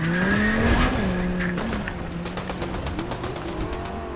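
Video game car, apparently a McLaren, revving and accelerating loudly with a rising engine whine and a brief tire squeal, then settling into a steady, slightly quieter engine drone.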